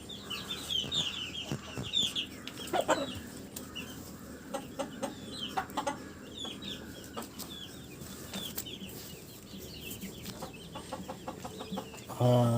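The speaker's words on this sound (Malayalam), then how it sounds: "മുട്ടയിട്ടതിൻ്റെ ബഹളമാണ് ഇപ്പോൾ കണ്ടത്" A Kappiri hen on a farm clucks and cackles in scattered bursts, fairly close but soft, with other chickens and occasional wing flaps around her.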